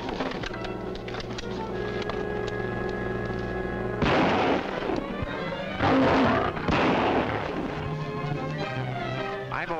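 Staged gunshots in an old-time jungle adventure radio serial: a few booming, sharp shots break out over a continuous sustained background bed, loud and close.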